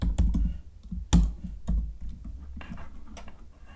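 Typing on a computer keyboard during an After Effects text-layer task, a short burst of uneven clicking keystrokes with a few louder taps, close and clear with no talking.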